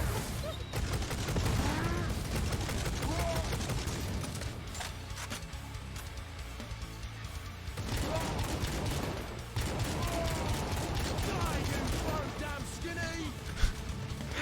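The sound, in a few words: heavy bolter gunfire in video game Necromunda: Hired Gun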